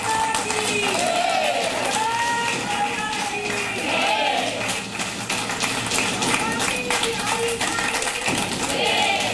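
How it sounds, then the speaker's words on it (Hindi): Studio audience applause rolls steadily through the whole stretch, a dense continuous patter of many hands, with raised voices and a host talking over it. "ये तालियों की गड़गड़ाहट बता रही है कि आपके आगमन को लेकर के हर तरफ उत्सुकता है"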